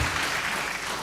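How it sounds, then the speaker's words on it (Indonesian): An audience at a panel discussion on the idea of the republic bursts into continuous, dense applause for a speaker, a steady wash of many clapping hands that stays loud throughout the short moment. "Tepuk tangan untuk Pak Agus."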